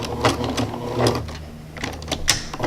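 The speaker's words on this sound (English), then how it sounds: "I'm going to top stitch" Domestic sewing machine top stitching close to a skirt edge with a 1/8 inch guide foot, a steady mechanical whir in short runs with brief pauses, near and moderately loud, no talking.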